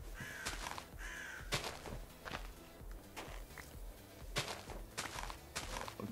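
Crow-like cawing birds in modded Minecraft, several loud harsh calls in irregular bursts over a steady game background with shuffling footstep sounds.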